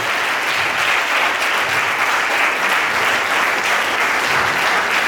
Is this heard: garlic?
no